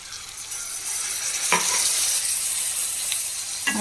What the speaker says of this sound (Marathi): समा हें करता मिक्स करता